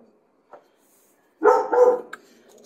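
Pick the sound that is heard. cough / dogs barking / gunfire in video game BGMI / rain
dogs barking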